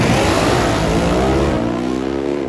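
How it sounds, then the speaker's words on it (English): A Denso V-twin gasoline drag racing motorcycle ridden by Chris Bostick, with a switchback four-valve head, roars loudly and steadily on a pass, its engine pitch climbing and then shifting partway through. "But right now, Bostick on a pass on the Denso V-twin."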